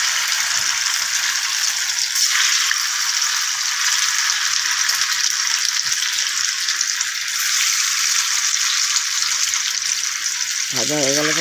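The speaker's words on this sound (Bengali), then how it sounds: "তেলটা হয়ে গেছে, এবার ধোকাগুলো ছেড়ে দিচ্ছি।" Cucumber dhoka fritters fry in hot oil, a loud, dense, continuous sizzle with fine bubbling crackle that holds steady the whole time, close up and without talk.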